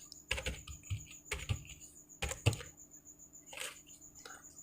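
A computer keyboard is typed on in a few sharp clusters of clicking keystrokes, separated by short pauses, close and fairly quiet against a faint steady hum.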